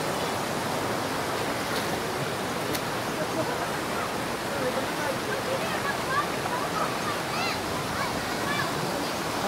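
A flowing creek in the outdoors, a steady close rush of water running throughout with no break, fairly loud and even.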